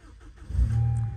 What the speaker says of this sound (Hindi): गाड़ी को स्टार्ट करने का आगाज करते हैं